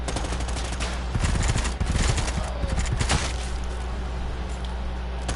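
Rapid submachine gun bursts in the shooter game Predator: Hunting Grounds rattle out in quick clusters over a constant low background hum, loud and close, with no speech.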